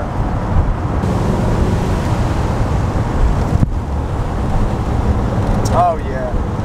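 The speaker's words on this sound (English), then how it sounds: "This is a really nice handling car." A 1987 Corvette C4 convertible drives along with its top down, a steady low road and engine rumble mixed with broad wind rush that stays loud and close throughout.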